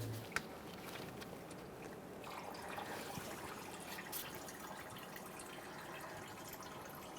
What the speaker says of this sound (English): Now that the coolant is finished draining,